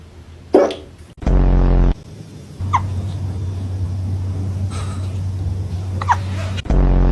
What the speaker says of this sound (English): Do you have the hiccups?